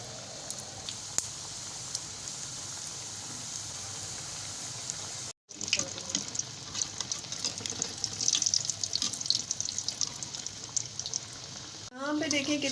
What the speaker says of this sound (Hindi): यहाँ पे मैंने जो टिकिया बनाई है उसको जो है इसमें ऐड करते जाते हैं।